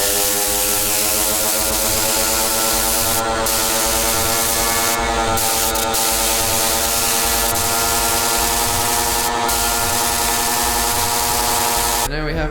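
Short hissing bursts of spray glue applied to an 18-inch home theater subwoofer box built for a Sundown Audio X-18, sounding in several separate puffs over a loud, steady humming motor drone.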